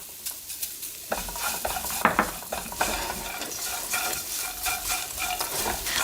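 Seasoned laver with sesame is stir-fried in a pan over low heat, giving a steady soft sizzle broken by repeated scraping and clinks of a utensil against the pan.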